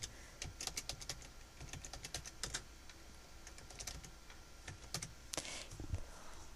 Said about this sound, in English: I can type whatever I want in here.